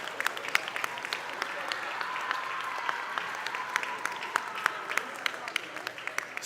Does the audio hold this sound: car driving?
no